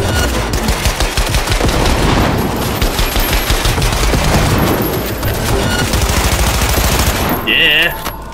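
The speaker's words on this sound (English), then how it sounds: "Submachine gun!" Submachine gunfire in the video game Cyberpunk 2077 rattles in dense, loud rapid bursts almost without pause, layered with other gunfire and impacts, while a voice briefly speaks over the shooting.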